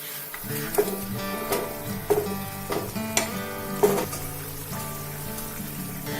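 Tangra fish dropped into boiling spiced water with lemon juice, giving a steady bubbling, sizzling simmer with several sharper splashes and knocks as the pieces go in, close and moderately loud with no talk.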